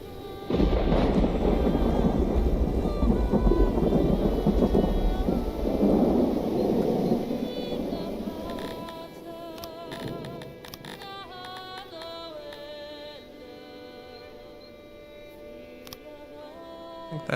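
Thunder from lightning in the video game Songs of Syx rumbles loudly and close for several seconds with rain. It then fades into a quieter background with game music and interface sounds.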